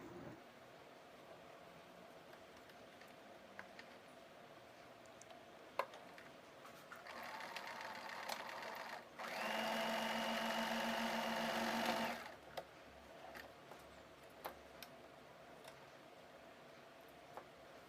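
A sewing machine stitches pleats on a kurti in a quiet room, running in two short bursts: a lighter whir, then a louder, steady mechanical drone lasting a few seconds, with faint ticks before and after.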